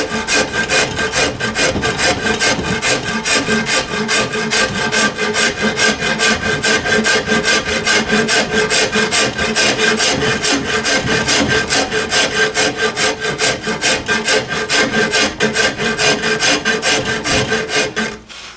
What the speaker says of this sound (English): Now I am using the rasp more in the traditional method of shoving it across